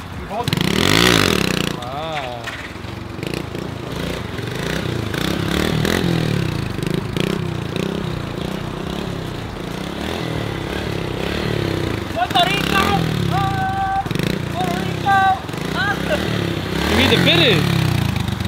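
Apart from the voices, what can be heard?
cheap Amazon go-kart engine running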